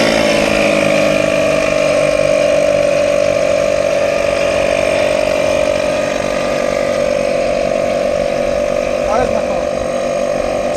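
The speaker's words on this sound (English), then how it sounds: "I can go turn my compressor on." An air compressor runs steadily at close range, a loud continuous motor drone with a strong, even tone that holds for the whole stretch without stopping.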